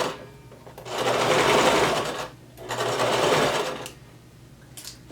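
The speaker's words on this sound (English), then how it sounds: "Now we're going to keep sewing at a 5/8 of an inch seam allowance." Sewing machine stitching a 5/8 inch seam on a gathered maxi skirt, two loud close bursts of running stitches with a short pause between them.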